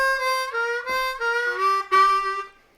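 A blues harmonica works a pattern backwards down the scale, playing a clear sequence of sustained single notes that step downward, close and solo, fading out at the end.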